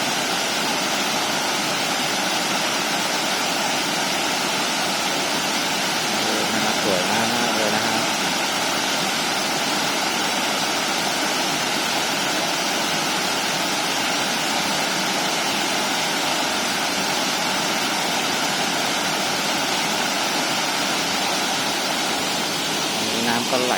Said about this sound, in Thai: ลองมานั่งน้ำฟังเสียงน้ำตกเล่นน้ำตกดูจะได้ผ่อนคลายบ้างนะ